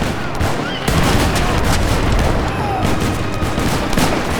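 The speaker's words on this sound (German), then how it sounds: "Na, wir schießen schon." Musket volleys ring out in an Age of Empires III battle, a dense, loud barrage of overlapping crackling shots that keeps going without a break, with faint voices in the background.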